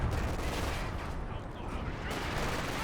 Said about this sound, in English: Good mortar hit there by the Wehrmacht player, who has now double mortar in the field